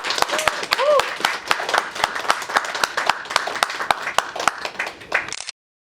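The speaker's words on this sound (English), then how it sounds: "Round of applause for them" A small audience at a North Film Festival NYC filmmaker Q&A session claps, with distinct individual hand claps in an uneven patter and a brief voice mixed in, before the sound stops abruptly.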